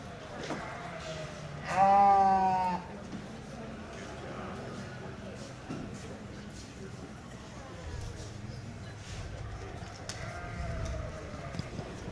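Sheep bleat in a barn during a county junior fair sheep show, one loud, wavering call near the start and a fainter one later, over low barn noise and background voices.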